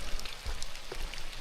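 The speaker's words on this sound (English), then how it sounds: "And so it is now raining" Rain falling outdoors on a hike, a steady soft patter of drops with no voices, fairly quiet and close.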